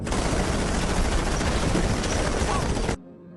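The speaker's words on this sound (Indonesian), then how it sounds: "Mereka semua lalu diberondong peluru." Sustained gunfire rips through a scene in an Indian gangster film, a loud, continuous barrage of overlapping shots lasting about three seconds before cutting off abruptly into near silence.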